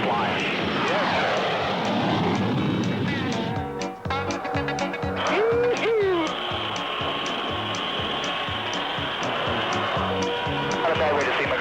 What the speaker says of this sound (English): Nose wheel getting light here at 120. We'll be airborne about 140.